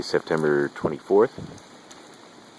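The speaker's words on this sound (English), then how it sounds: "the rain is definitely here" Steady rain falls at a house construction site, a constant broadband hiss under someone speaking briefly up close.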